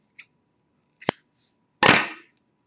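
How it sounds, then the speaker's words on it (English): Scissors snip through black yarn during a crochet project, giving a tiny click, then a sharper snap and a final louder crunching cut, all close and isolated against near silence. "now we also can go ahead and cut the black yarn"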